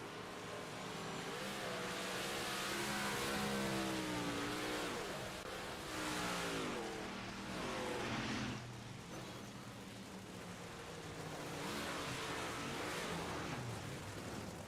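Race cars in the iRacing simulator passing on an oval track, loud continuous engine drone with rising and falling revs as several cars sweep by, no voices.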